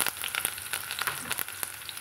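Shallots, mustard seeds and curry leaves fry in hot oil for a potato tomato kurma, giving a steady close sizzle with scattered sharp pops and crackles throughout, with no talking.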